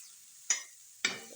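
Two quick, quiet scraping strokes of a spoon in a pan as prawns are stirred into chutney, with little sizzle between them.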